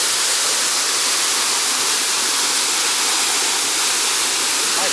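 A waterfall in Bali roars as a dense, continuous wash of hissing white water, loud and close, steady throughout with no voices or breaks.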